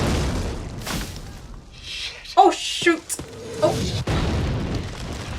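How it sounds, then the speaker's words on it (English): Heavy explosions boom in a series from Band of Brothers episode 7, some sharp and close, others duller, while a person reacts with startled exclamations between blasts. "these explosions are getting crazy"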